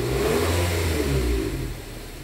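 Nissan Livina engine revving gently at low throttle, a close, loud, mid-pitched rumble that holds steady and then eases off toward the end.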